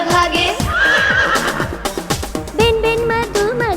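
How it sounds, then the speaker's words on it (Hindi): A horse whinnies in a high, wavering neigh over a busy children's rhyme backing with a rhythmic beat and sung vocals. "हिन हिन करता घोड़ा भागे"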